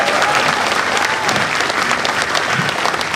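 A church congregation at a revival service in Mamasa bursts into loud, full applause, dense clapping that carries on without pause and sounds close and energetic.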